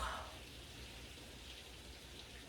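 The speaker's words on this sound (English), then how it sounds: "Do you hear that rain? It is roaring." Heavy rain roars steadily outdoors as a dense, even hiss, fairly faint and continuous throughout with no talking.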